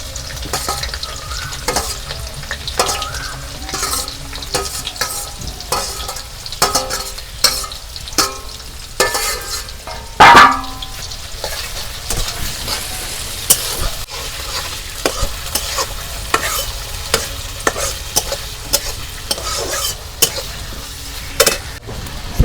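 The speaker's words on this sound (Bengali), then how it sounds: "তেল গরম হচ্ছে, এখন আমি পেঁয়াজ কুচি দিয়ে দিই।" Chopped onions frying in hot mustard oil over a village-style clay stove, a loud continuous sizzle with frequent stirring clinks and scrapes of a utensil against the pan, one sharp burst of spatter partway through, no voices.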